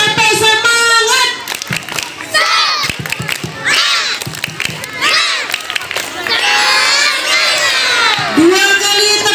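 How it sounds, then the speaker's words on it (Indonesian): Schoolchildren clapping together at an elementary school gathering before an arts performance, rhythmic claps mixed with loud crowd shouting and cheering, a voice speaking between bursts. "kita berikan tepuk dulu biar tambah semangat"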